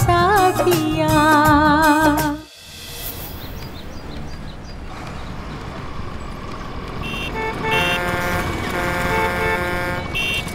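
A car horn toots in quick bursts amid busy, jammed traffic noise, followed by other vehicles and horns sounding further off.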